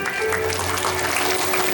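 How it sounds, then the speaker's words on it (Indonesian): A parenting-talk audience at the Darul Iman Islamic boarding school in Palembang gives a short burst of steady clapping, moderately loud, with a faint voice beneath. "Tepuk tangan buat anak kita ini."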